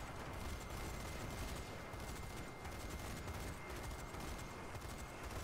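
Heavy gunfire from a big gun in the zombie shooter Zombie Army 4: Dead War, a dense, continuous barrage of loud blasts that fills the whole stretch without pause.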